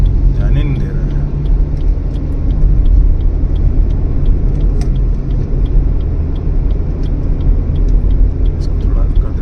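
A car climbs a mountain road on the way toward Shimla and pulls out to overtake a slow tempo: steady, loud road rumble and engine drone close by throughout, with faint rattles and ticks.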